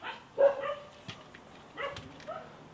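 A small dog chasing another dog away at an outdoor food stall, giving a few short yips and barks spread over a few seconds, fairly close and moderately loud.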